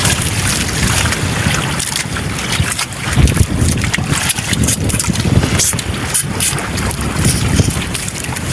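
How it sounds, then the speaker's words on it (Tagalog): Strong wind roars steadily over the open sea aboard a small fishing boat, with loud buffeting gusts striking the microphone and a faint splash of water beneath. "Balakas na hangin, mga idol."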